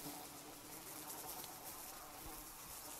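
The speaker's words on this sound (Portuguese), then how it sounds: "Alguém cagou aqui porque tem um monte de mosca." A dense swarm of flies drones steadily and faintly in the Sons Of The Forest video game. The hum is unbroken throughout, with no speech.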